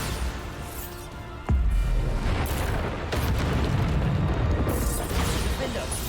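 A Bombarda blasting spell explodes in the Hogwarts Legacy video game, a sharp booming burst followed by a thick rumbling roar of debris and effects, with a voice speaking over the game action.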